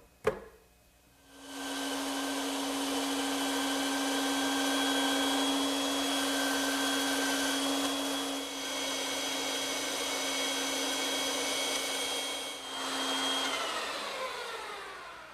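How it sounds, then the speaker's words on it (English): A bandsaw cuts traced wooden arm and foot shapes from blanks, a sharp start followed by a sustained whining hum with a strong steady tone, loud and close, dipping briefly midway and trailing off as the blade spins down. "now I can return to the bandsaw and cut those shapes out"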